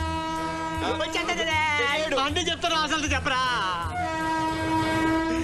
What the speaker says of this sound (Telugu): కొంచెం దగ్గరలో ట్రైన్ కూడా దగ్గరికి వస్తుంది